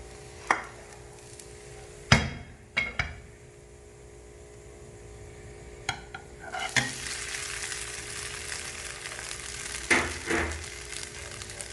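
Grated potato rosti sizzles steadily in a hot frying pan, with several sharp scraping clatters as a spatula works under it and flips it, the frying hiss rising louder afterward, close and with no talk.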